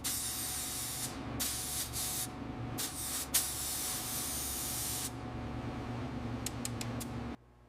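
A spray gun lays base coat on a restored 1925 Hispano-Suiza H6B cabriolet. The close, loud hissing comes in long bursts with brief pauses, then stops.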